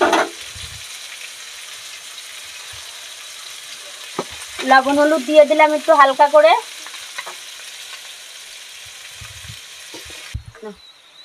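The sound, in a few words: potatoes frying in oil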